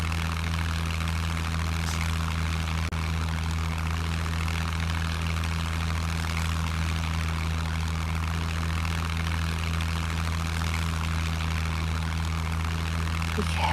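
A propeller plane engine in the video game SCUM drones steadily and loudly throughout, a constant low hum with no talk over it.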